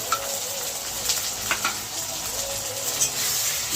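Ginger frying in a pan with garlic while cooking moong dal with fish head, a steady close sizzle with faint stirring scrapes and a few light clinks, no voices.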